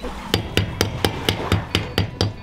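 Hammer tapping a key into the slot of a propeller shaft taper on a sailboat hauled out on a slipway: about nine sharp, evenly spaced metallic taps in quick rhythm, close and clear with no talk.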